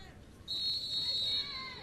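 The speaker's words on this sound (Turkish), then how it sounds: "İlk düdük geldi ve maça Fenerbahçe'miz başladı." A referee's whistle starts a Turkish women's football match between Fenerbahçe Petrol Ofisi and Fatih Karagümrük, a single long steady blast in the middle distance over crowd and commentary noise.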